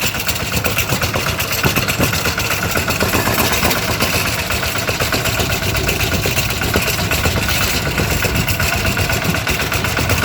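A tractor engine idles close by, a continuous low rumble with rapid chugging pulses and a constant mechanical drone, no voices.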